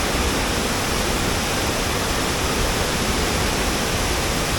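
Savatkada waterfall near Chunakolvan, Rajapur, in the Konkan, flows full, giving a steady, loud, broad rushing roar that never changes and carries no voices.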